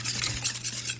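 Chicken coating ingredients, including white vinegar, are stirred together in a bowl, giving a steady scraping and swishing with soft utensil clinks close by.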